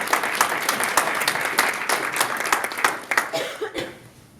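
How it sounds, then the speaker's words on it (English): Audience applause for the speaker's wife Janelle at a leadership talk: steady, dense clapping from a room of people that holds for about three seconds, then thins out and fades near the end. "Give her a round of applause"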